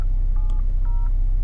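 Two short telephone keypad tones beep through a car radio's CarPlay, a quick pair of clean dual-pitch tones over a low steady hum.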